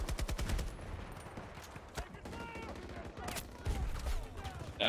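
Rapid gunfire from the Battlefield 2042 video game rattles in bursts, fairly faint and distant-sounding, with several sharper shots standing out and a voice speaking over it.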